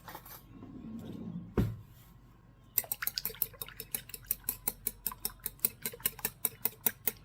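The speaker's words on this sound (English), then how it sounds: "I'm just going to take a fork and stir this up" A fork stirs a mixture in a bowl for pizzelle Italian cookies, making a soft, regular series of quick clinking taps that grows steady after a brief knock near the start.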